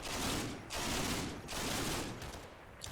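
Gunfire in Combat Mission: Battle for Normandy, set among Normandy hedgerows: sustained, dense volleys that roll in three broad waves with brief dips between, loud and continuous with no voices.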